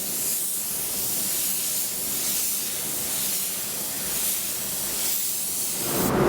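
A 1.6 paint spray gun set to about 1 bar lays down a coat in a steady, close, breathy hiss that swells and eases slightly with each pass.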